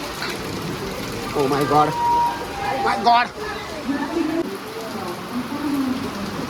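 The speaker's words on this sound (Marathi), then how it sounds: "आणि बाहेर बघा पाऊस पडतोय." Heavy rain pouring down outside a railway station in Jaipur, a steady wash of hiss under excited voices speaking nearby, with some distant background noise.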